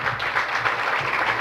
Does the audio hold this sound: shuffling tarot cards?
no